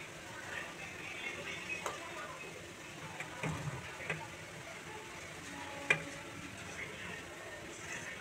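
Rice flour batter being stirred for patishapta pitha, a soft scraping stir with faint sizzling from a pan on low gas, quiet and fairly steady with a few sharper clinks, no talk over it.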